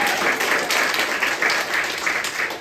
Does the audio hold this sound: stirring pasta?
no